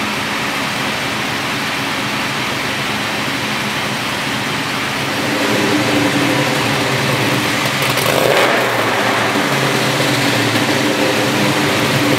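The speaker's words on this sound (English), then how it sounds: "there's a big cam loping away under the hood, and it barks and snarls through a pair of custom long-tube stainless steel headers" A 1969 Chevy Camaro RS/SS pro touring car with a big-cam V8 exhausting through custom long-tube stainless steel headers, idling with a loping, rumbling beat and then revving louder, steady and close with no talking.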